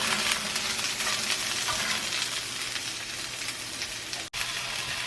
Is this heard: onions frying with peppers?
yes